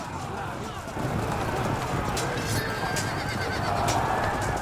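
Horses neighing in the Field of Glory 2 strategy game, a cavalry battle between Slav and Dacian armies, with whinnies rising over a dense, steady rumble of battle noise and hoof clatter.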